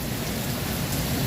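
Heavy rain driven by strong wind produces a dense, even hiss that stays constant over a brief moment.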